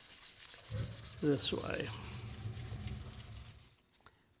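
Steady rasping strokes of sandpaper rubbed by hand over a knife handle, close up, with a brief spoken word partway through before it stops.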